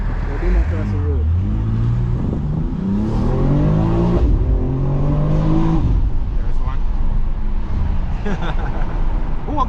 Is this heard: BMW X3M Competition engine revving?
yes